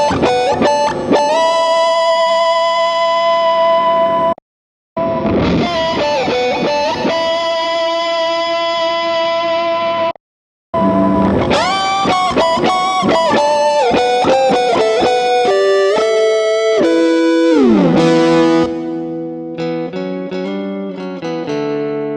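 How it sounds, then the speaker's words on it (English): Electric guitar played through a Big Muff fuzz with reverb placed after the amp, heard as sustained distorted notes and chords with ringing tails, broken by two short silences and followed by a faster run of bends and melodic phrases. "Now you can hear the reverb does sound different before and after the amp"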